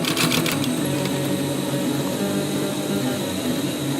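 A sewing machine stitches a fabric surgical mask, giving a continuous close mechanical whir and hum with a few quick rattling bursts at the start.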